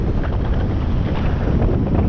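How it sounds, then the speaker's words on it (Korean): Strong gusty wind roars and buffets the microphone during paragliding on a day of strong gusts, a loud continuous low rumble with no voices. "바람 소리"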